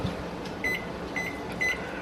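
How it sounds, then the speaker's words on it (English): A kitchen timer beeps three times at an even pace during peach canning on a stove, the short tones standing out clearly over a steady kitchen hum. "Okay, the timer went off."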